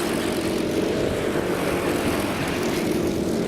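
Honda Cadet karts racing at Whilton Mill make a loud, continuous engine drone that holds steady and close for the whole stretch.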